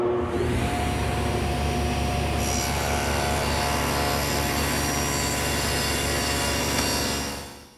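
A table saw cuts wood for a cricket table, a loud, steady motor whine with a dense rasping cut that holds for several seconds before winding down at the end.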